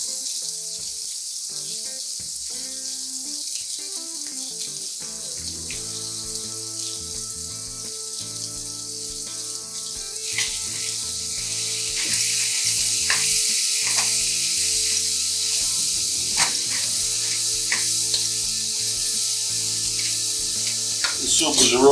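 Chopped peppers, onions and garlic sizzle in a soup pot, a steady hiss that swells louder partway through and continues under background music, with a few clinks of stirring.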